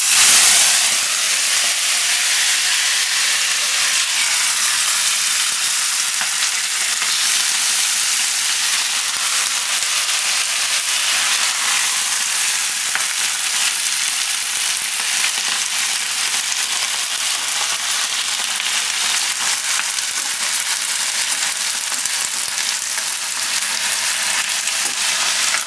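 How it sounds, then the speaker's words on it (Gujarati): Eggplant sizzles steadily in hot oil with mustard seeds, cumin and asafoetida for a Gujarati spinach-and-brinjal curry, a continuous close frying hiss with no voices. "હવે એમાં રીંગણા નાખી દે હું"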